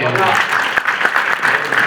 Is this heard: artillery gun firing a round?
no